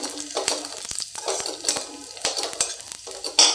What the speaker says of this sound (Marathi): हा कांदा चांगला लाल होईपर्यंत परतून घेऊ